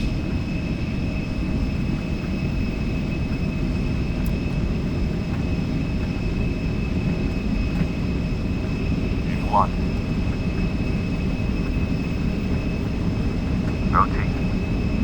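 Embraer E175 jet engines in X-Plane 12, a steady broadband roar building through a takeoff roll, continuous and loud with faint radio chatter and brief chirps over the top.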